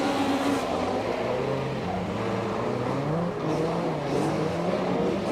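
Rallycross race cars at Estering give a continuous engine roar with rising and falling revs, loud and fairly steady throughout, with no voices.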